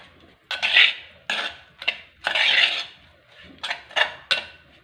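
A metal spoon stirs and scrapes a pot of fish curry, made without chilli; several distinct clinking, rasping strokes in an uneven rhythm, close and fairly loud, with no talking.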